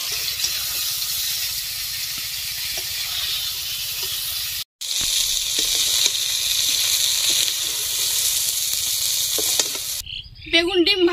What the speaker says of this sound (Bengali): বেগুন ডিম ভাজা হয়ে গেছে।